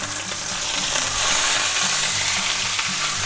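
A sous vide chuck roast sears in a hot pan, giving a steady, close, dense sizzle that swells slightly partway through, with no talking.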